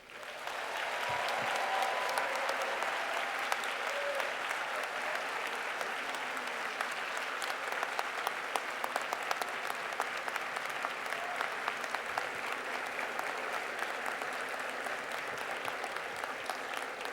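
Sustained applause from a large commencement audience at Tuskegee University welcoming former U.S. Attorney General Loretta Lynch to the stage, dense and steady throughout with no speech over it.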